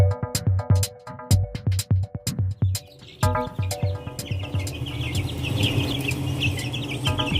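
Chickens cluck close by while being fed, with sharp staccato taps and clucks at first, then a denser, busier flock chatter.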